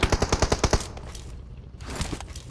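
Gunfire in a PUBG Mobile match: a rapid automatic burst of about ten sharp shots, loud and close, then a rumbling tail and another faint shot, with no talk.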